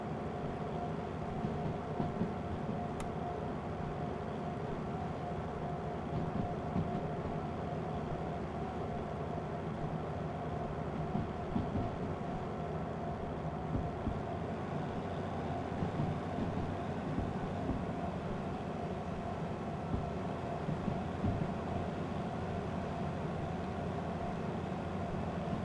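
A locomotive in the Derail Valley train simulator hauls a heavy train, a steady low rumble of engine and rolling stock that holds at a constant level throughout without speech.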